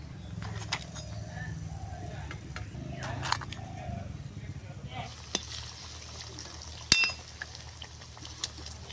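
Multigrain semolina pitha frying in hot oil in a wok over high heat, a steady low sizzle and bubbling running throughout with occasional small clinks and stirring knocks.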